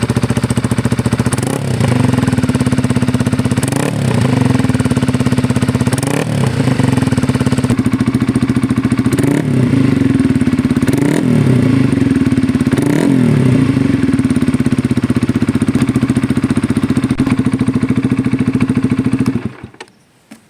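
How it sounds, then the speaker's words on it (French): A Honda CB 125 R motorcycle with an aftermarket exhaust idles loudly with a deep, throaty burble, blipped by a series of sharp revs before it suddenly shuts off. "Ça confère à la moto un son vraiment très sport et agrémente la conduite plutôt sportive"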